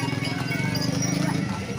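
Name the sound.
horse hooves clip-clopping at an ondel-ondel Betawi parade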